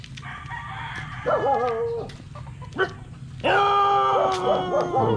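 A dog in the Philippines gives several loud, sharp barks and yelps in bursts, mixed with a crowing rooster and clucking fowl nearby, over low background rumble.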